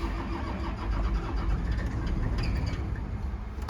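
An old tracked mini excavator's engine cranks repeatedly without catching, a rough, steady churning at close range with no voices over it.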